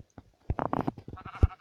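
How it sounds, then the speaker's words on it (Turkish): Minecraft sheep bleat in the game, a few quick wavering baa sounds that stutter together and end in a louder final bleat, close and clear with no voice over them. "Koyun, neden ayağımıza geliyorsun?"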